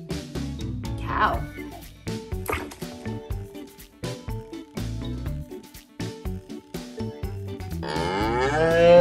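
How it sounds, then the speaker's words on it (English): A cow moos over and over against toy-like background sounds and music, with a child-oriented voice speaking around it. "Cow."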